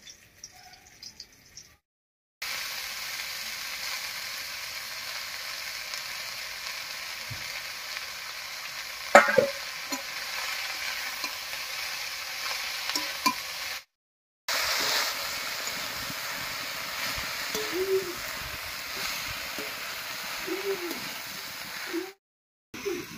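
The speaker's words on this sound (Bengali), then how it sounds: "রসুন আর লঙ্কাটা বেশ লাল লাল করে ভেজে নিয়েছি, এবারে শাকটা দিব।" Leafy greens stir-fry in hot oil with garlic and green chillies, giving a steady close hiss of sizzling with occasional stirring scrapes and short silent breaks, no talk.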